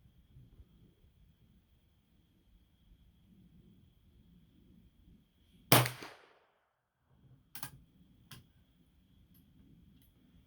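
A single sharp gunshot from a .32 extra long rimfire Remington rolling block rifle, firing heel bullets at about 1,100 feet per second. It rings out loud and close in a quiet setting, followed by a couple of metallic clicks from the action.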